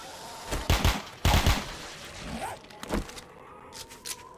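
Several sharp pistol shots in 7 Days to Die ring out at moderate volume, a close pair followed by another pair and a few later single cracks, with short pauses between them.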